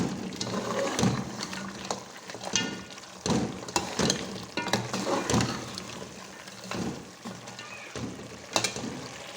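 Desi chicken pieces sizzle and crackle in hot oil in a pan, a steady close frying hiss broken by occasional stirring scrapes.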